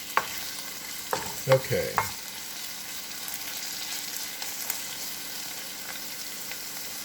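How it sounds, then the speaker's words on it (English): Onions and garlic stir-fry in a pan for a shrimp chow fun, with a brief burst of spatula scraping and stirring early on. A low, steady sizzle runs underneath, and one short spoken word is heard. "Give it a good stirring."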